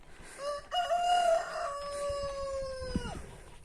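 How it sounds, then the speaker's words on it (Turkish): A rooster crows loudly with a long drawn-out call, while other fowl cluck and a second crow ends near the close, over farmyard background noise. "Güzel güzel ötüyor horozlar."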